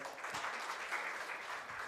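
Applause from an audience of civil service academy students honoring MLA Najeeb after his speech, a fairly quiet, steady wash of clapping lasting under two seconds with no voices.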